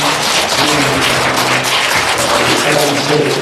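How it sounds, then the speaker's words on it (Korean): Congregation applauding during a Sunday church service, a steady dense clapping that stays loud and continuous from start to finish with no talk over it. "박수로 한번 축복합니다."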